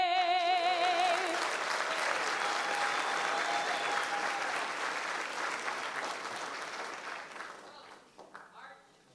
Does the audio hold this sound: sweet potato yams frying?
no